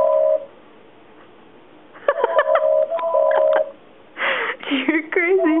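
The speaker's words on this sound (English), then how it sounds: "She hit the button on the phone." A toy telephone bursts into electronic beeps and short tones after its button is pressed, in a home setting, with pauses between bursts and a voice heard briefly.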